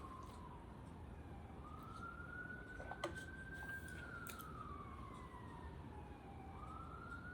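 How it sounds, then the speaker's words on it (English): A siren wails faintly in the distance in Washington, DC, its pitch sweeping slowly up and down over steady city traffic rumble. "Y'all hear the sirens."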